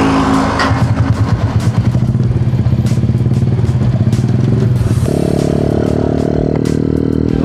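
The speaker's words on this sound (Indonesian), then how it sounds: "sekarang gue akan test ride motor trail mini ini" A small custom mini trail motorcycle built from a Honda Revo engine idles with a rapid putter, then revs up sharply into a higher steady drone, close by with some clattering.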